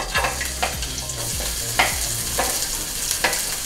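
Garlic and ginger frying in oil in a skillet for beef chow fun, a continuous close crackling sizzle with rhythmic scraping strokes of a utensil stirring through it.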